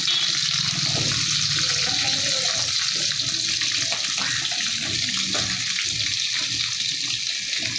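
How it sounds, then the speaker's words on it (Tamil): Chopped onions fry in hot oil for a spicy kara chutney, a steady loud sizzle and hiss that continues unbroken throughout with no talking. "இப்போ வெங்காயம் போடணும், பார்த்து போடணும்."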